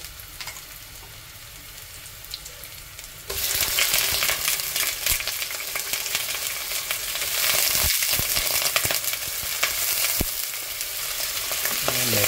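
Onions and liver fry in a pan for pancit canton. A quiet simmer jumps to a loud, steady sizzle when the food goes in, with scraping stirs along the way.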